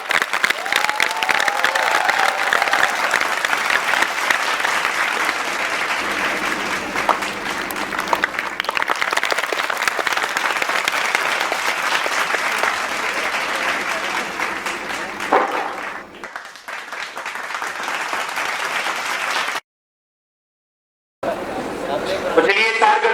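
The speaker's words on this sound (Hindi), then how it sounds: "मैनेजमेंट सर नाम देवसिंह सर के लिए जोरदार तालियां।" A crowd at a school results event gives sustained loud applause, mixed with cheering, chatter and children's shouts. The applause dips briefly and cuts out for about a second near the end, then picks up again.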